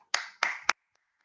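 Three sharp, close handclaps in a quick series from participants at a communication course, followed by near silence.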